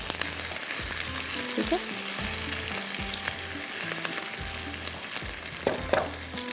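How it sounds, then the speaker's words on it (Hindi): Beef browning in a pan for a pasta dish, a dense steady sizzle with occasional stirring scrapes, close and loud, a brief voice speaking near the start. "चलिए अब इसको हम करते हैं अच्छी तरह से ब्राउन।"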